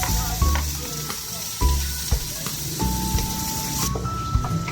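Tomatoes sizzle in a pan with sautéed onion, garlic and ginger for squid adobo, a steady close frying hiss with periodic clanks and scrapes of stirring, no talk over it.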